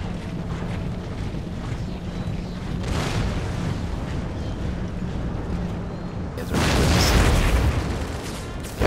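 Artillery volleys firing in the Empire: Total War battle game, heard as distant rumbling booms under a steady wash of battlefield noise, ending in a louder, closer burst of cannon fire.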